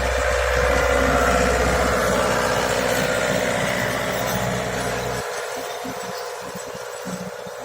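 A Lovol tractor pulls an SZT-1.8 seed drill while sowing wheat, its engine droning steadily and loudly up close throughout, with a low rumble that drops away in the final seconds.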